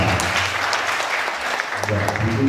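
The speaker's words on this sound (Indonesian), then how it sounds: "tepuk tangan untuk senior-senior kita" An audience at a kethoprak theatre discussion gives sustained applause for senior performers, steady clapping with a voice talking over it.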